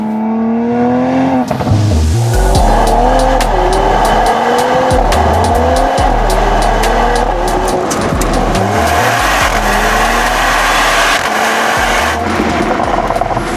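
A BMW M440i convertible driven hard, its engine revving loudly through repeated gear changes with rising and falling pitch and a squeal of tires, close and continuous throughout.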